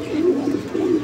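A pair of Archangel pigeons coo in a low, rolling murmur inside a loft. Two throaty coos swell and fade in quick succession.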